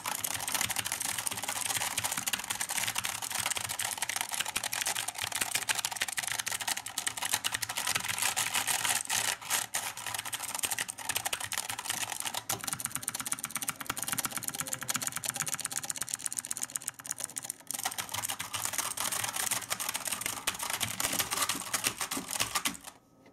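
Fast, continuous typing on a mechanical keyboard with blue switches, a dense close-up stream of crisp, clicky keystrokes that runs without a break.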